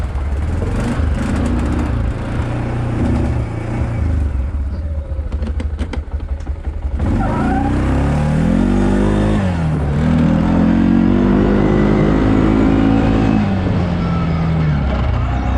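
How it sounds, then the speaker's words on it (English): A broken four-wheeler ATV engine runs steadily, loud and close, then revs up with rising and falling pitch sweeps in its second half. "He just wants the 4-wheeler to run."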